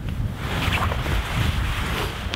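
Blustery wind roaring on a frozen, crisp winter camping morning in the wilderness, a continuous low rumble buffeting the microphone with no pauses.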